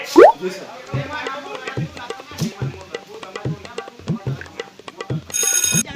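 A telephone rings with short electronic tones amid busy, music-like background sound and clattering, ending in a bright, dense burst of ringing.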